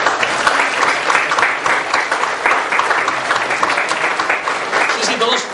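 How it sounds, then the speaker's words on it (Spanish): Steady, full applause from a concert audience at a music band festival, honoring the band director, a dense wash of clapping held at even loudness throughout. "hay que darle otro aplauso."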